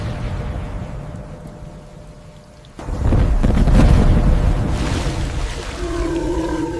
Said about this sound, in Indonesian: Gemuruh guntur yang keras dan menggelegar